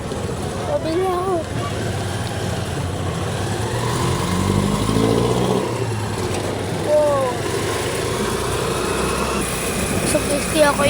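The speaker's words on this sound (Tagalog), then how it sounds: "gusto ako in-stop kasi ang ingay. Puro sasakyan. Ingay!" Dense street traffic from many vehicles, a steady roar of engines with motorcycles and cars passing nearby, loud and continuous, with people talking over it.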